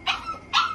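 Puppies kept at a kennel give two sharp, high yips about half a second apart, close and loud, with faint whimpering between them and no talk.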